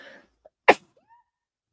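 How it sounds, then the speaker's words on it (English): A single sharp sneeze, loud and close, in an otherwise quiet room with a faint murmur before it. "I never sneeze once"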